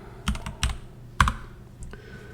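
Quick typing on a computer keyboard at a Linux PC, a handful of crisp, close key clicks in short bursts with pauses between them, no voices.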